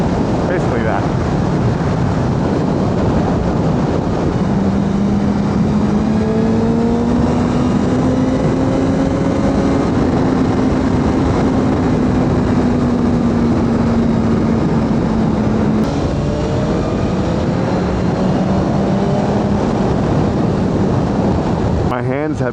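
A sport motorcycle engine revs as the rider cranks the throttle, its pitch climbing and easing in long sweeps, partly buried under steady wind rush and road roar.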